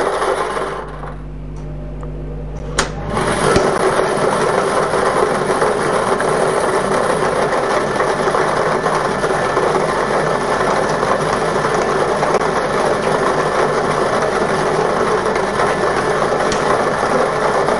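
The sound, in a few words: lottery draw machine mixing the balls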